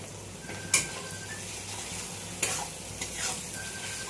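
Onions fried reddish brown sizzle in a pan with ginger and garlic paste for chicken kosha, a low continuous hiss with a couple of sharp clicks from a stirring spoon.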